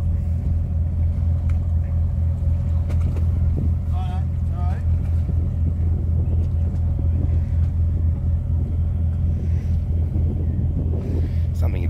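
A boat engine idles nearby at a pier with a deep, steady rumble and hum, with faint voices and outdoor noise around it.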